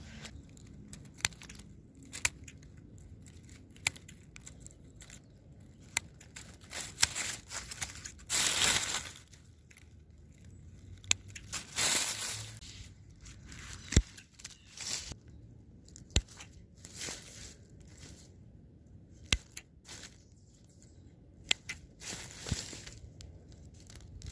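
Pruning shears snip back salvia stems in a garden, a series of sharp, scattered crunching cuts with rustling foliage between them, close and fairly quiet.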